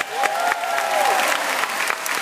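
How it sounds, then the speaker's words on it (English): A crowd applauds steadily for the stage crew at a Star Wars Weekends event at Disney, dense continuous clapping with a faint tonal whistle or cheer riding over it. "can we give a big round of applause for my amazing crew back there?"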